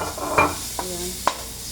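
Garlic and squid (locos) frying in a pan, with a low sizzle under a few sharp scraping stirs near the start and two brief knocks later, close by with no talk.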